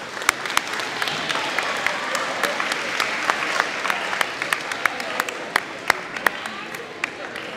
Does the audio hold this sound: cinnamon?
no